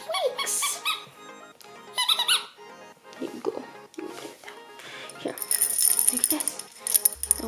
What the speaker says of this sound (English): It squeaks.